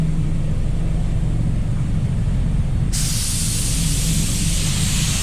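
A Walcom HVLP spray gun lays down wet-on-wet primer with a continuous loud, close hiss of compressed air and atomised paint, turning brighter and sharper partway through, with no voices.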